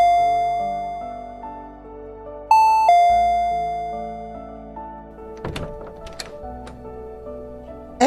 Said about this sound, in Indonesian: Lalu terdengar bunyi bel rumah lagi